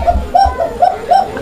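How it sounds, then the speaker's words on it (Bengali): Koka pigeons coo in a room housing only that breed, with four soft repeated coos in a steady rhythm, close and clear, with no talking. "এটার ডাকটাও তো দেখা দরকার দর্শকের"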